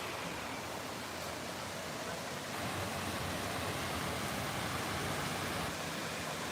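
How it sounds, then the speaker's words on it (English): Well water running from an outdoor drinking fountain in Prattville, Alabama, a steady broadband rush of splashing water heard close and continuous for several seconds without talk. "The drinking fountain."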